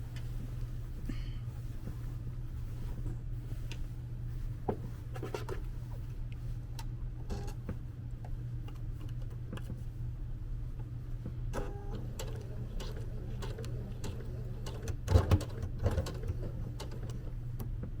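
A home sewing machine stitches a seam on Liberty London fabric for palazzo trousers, a low steady motor hum with faint ticking and a few small clicks from handling near the end, no talking.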